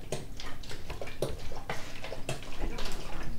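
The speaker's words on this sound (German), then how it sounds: "Ich mach nur komische Wassergeräusche." Odd watery sounds in Vampire: The Masquerade – Bloodlines, a steady splashing, trickling texture with irregular ticking drips, moderately loud and continuous with no talking.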